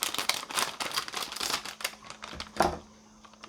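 Trusty scissors snip open a packet of tangy tomato cone snacks with black pepper and chilies, a burst of close crinkly plastic rustling and cutting clicks, with a sharper snip near the end.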